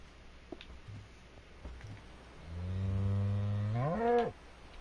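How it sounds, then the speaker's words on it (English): A cow in the video game Minecraft lets out one long, loud, drawn-out moo that rises and swells before cutting off, heard close over a low, steady background hiss. "Yeah, I can hear you, cow. You're pretty loud."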